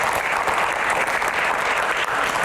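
An audience claps loudly and steadily in a dense, continuous burst of applause at the close of a panel Q&A session, with no voices rising above it.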